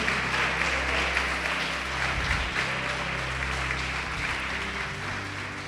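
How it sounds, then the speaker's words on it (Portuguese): A church congregation claps in praise at a worship service, a dense sustained applause with low rumbling underneath and no clear speech on top. "Pode aplaudir o Senhor, glorifica o nome dele"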